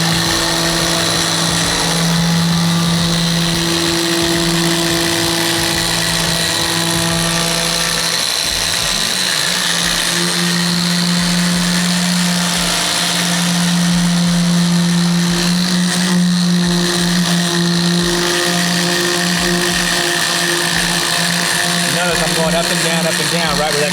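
A rotary polisher works the paint of a 1967 Ford Thunderbird with a steady droning whine; partway through the pitch sags and wavers as the pad bogs down under pressure, then steadies again, while a voice talks over it.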